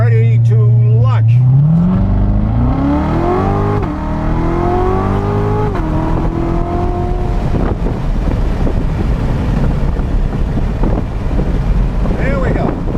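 A 2017 Corvette Z06 launches hard under launch control, its engine roaring and rising in pitch through several quick gear shifts, followed by heavy wind rush as speed builds.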